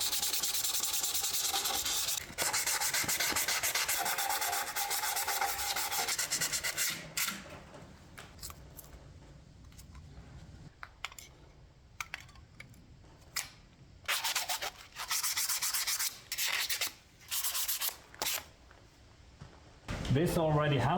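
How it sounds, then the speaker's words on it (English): Fine sandpaper rubbed by hand over a part of a Massey Ferguson 165 4WD tractor front axle under repair, a steady close scrubbing at first, then short rhythmic strokes in separate bursts, with no talking. "Let's grab some fine sandpaper and clean this up a bit."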